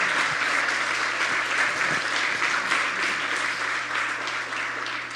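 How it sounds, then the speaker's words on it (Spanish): A church congregation claps at length during a Spanish-language Sunday service, forming a dense, even wash of applause that holds steady throughout over a low hum. "Aplaude a Jesús."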